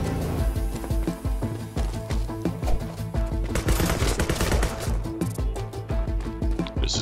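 Rapid video game gunfire rattles continuously over a busy musical backdrop, with sharp metallic clinks as a sword deflects incoming bullets, the shots dense and steady throughout.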